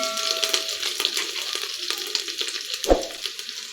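Garlic and ginger frying in oil with cumin, a steady close sizzle with a few crackles and one sharp pop near the end, with no voice.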